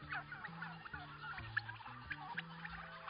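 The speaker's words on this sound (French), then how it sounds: "les milliers de pintades, de poulets et de dindes n'hésitent d'ailleurs pas à se faire entendre." Turkeys gobbling with guinea fowl and chickens clucking in a busy flock on a poultry farm, overlapping calls near and far over a steady murmur of birds.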